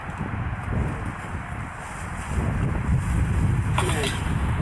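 Wind blows outdoors, buffeting the microphone with a continuous low rumble that grows stronger partway through and carries a faint rustle above it.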